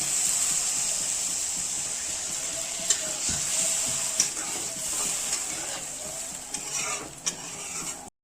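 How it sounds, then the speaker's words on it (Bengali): Fried spice masala sizzles and hisses steadily in a pan as water goes in for a fish curry, with occasional stirring clinks and scrapes over the constant close frying noise. "এখন আমি দিয়ে দিব জল।"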